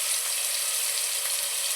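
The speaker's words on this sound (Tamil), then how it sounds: "வெங்காயம் வதங்கின பிறகு தக்காளியும் கூட சேர்த்து லைட்டாக வதக்கிக்கலாம்." Onions and tomatoes sautéing in a pan give a dense, hissing sizzle, steady and close, with no talking over it.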